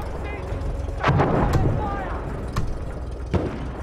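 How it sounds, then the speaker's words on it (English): An artillery barrage in the video game Battlefield 1 booms through a constant battlefield rumble, with several heavy, distant-sounding blasts spaced a second or so apart under background talk. "Artillery barrage to stop fire."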